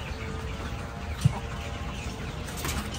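Hens clucking around a nesting box in a small flock of imported parent-stock breeder hens, steady low murmuring clucks throughout with one brief sharper note near the middle.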